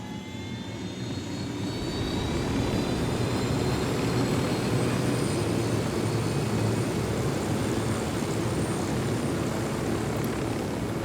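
Aircraft piloted in the tactical shooter game Ghost Recon Wildlands, a loud continuous engine roar with rotor-like rumble that swells in the first two seconds and then holds steady throughout.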